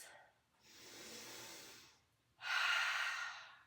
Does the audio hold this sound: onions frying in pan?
no